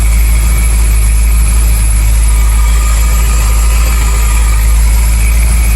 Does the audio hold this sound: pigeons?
no